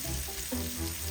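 Bacon browns in a pan for chili with a close, steady sizzle and soft crackle, with no voices over it.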